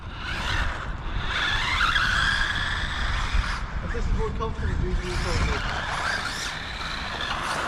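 Small cheap RC cars whine and skitter over a rough road, high-pitched motors rising and falling with scrabbling tire noise, while people talk over them.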